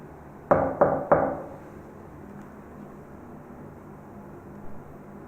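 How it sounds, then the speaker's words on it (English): Three quick knocks on a door during a ghost-hunting investigation, close and firm, followed by several seconds of quiet room hum with a faint later sound. "I'm just going to knock on this door."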